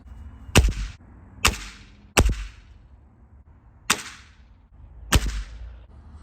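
GAMO Swarm Whisper Gen 1 air rifle fired at a target while sighting in its scope: five sharp, close cracks spaced about a second apart, each decaying quickly into quiet.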